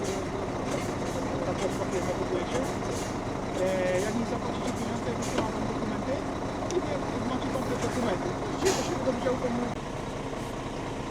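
A Scania S500 truck runs steadily while its gearbox steps through the gears, a constant engine drone with occasional clicks and hisses beneath people talking nearby.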